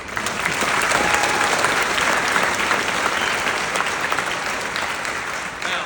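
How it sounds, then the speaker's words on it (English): Applause for a graduating class at a 2025 graduation ceremony, a full, steady roar of many people clapping together that stays loud and even for nearly six seconds, with no talking over it. "let's give them one more applause"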